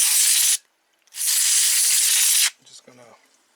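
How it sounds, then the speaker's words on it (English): Canned air dust and lint remover sprays in two loud, steady hissing bursts, the second longer, from a PNY 1660 Super graphics card being cleaned, followed by faint handling clatter. "So this is a dust and lint remover."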